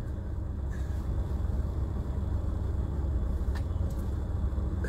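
Inside a moving car, a steady, loud low engine and road rumble drones without a break, with a couple of faint clicks and no speech.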